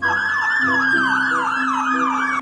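An electronic fire truck siren in the video game Jurassic World Evolution 2 wails in fast, repeating up-and-down sweeps, loud and continuous with a steady tone underneath.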